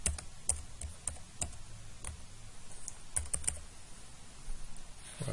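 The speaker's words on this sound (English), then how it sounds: "so we just type that in" Keys tap at an uneven pace on a computer keyboard as a value is entered into a spreadsheet. The typing is quiet and close, with faint background hiss.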